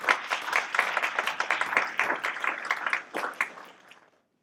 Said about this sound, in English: I'd like for us to give her a round of applause this morning.